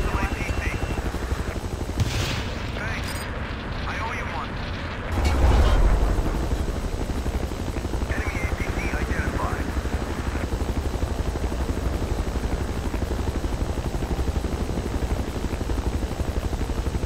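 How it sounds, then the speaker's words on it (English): A military helicopter in the Battlefield 2 multiplayer game drones steadily throughout, a constant rotor and engine roar with a louder swell midway, mixed with game effects and faint voices. "Chopper, chopper, chopper!"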